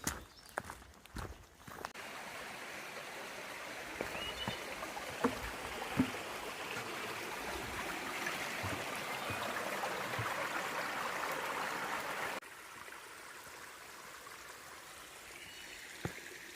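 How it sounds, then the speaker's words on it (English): A small creek flows steadily with a continuous watery rush, with a few faint footstep-like knocks early on. "We crossed this nice little creek"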